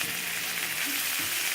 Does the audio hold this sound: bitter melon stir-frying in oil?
yes